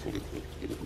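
Farm pigs grunt and snuffle close by in a short burst of low, repeated grunts, with no talking.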